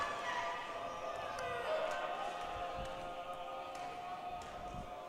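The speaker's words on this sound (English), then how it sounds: "Jumbo's crowd making some noise." Home crowd at a Tufts women's basketball game, a steady roar of cheering and voices with ball bounces and sneaker taps in the arena.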